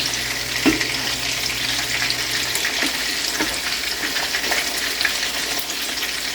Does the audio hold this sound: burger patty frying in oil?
yes